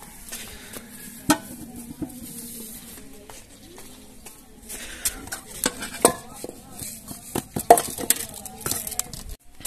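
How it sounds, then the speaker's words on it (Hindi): Dishes, pots and pans are being washed in a home kitchen in the morning, with intermittent clinks, knocks and clattering of metal and utensils over a low background and no talking. "अभी ये बर्तन है थोड़े से धोने वाले,"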